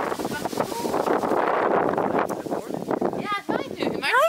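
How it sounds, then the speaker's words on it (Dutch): Gusts of wind buffet the microphone with a rough, rumbling roar, while a person talks over it and a voice rises near the end. "het waait nu"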